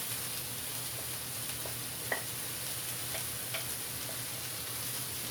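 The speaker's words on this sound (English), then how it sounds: "now I'm going to add my carrots to those onions" Carrots go into a pan of frying onions, which give a steady low sizzle with a few faint clicks from stirring, heard close and alone with no voices.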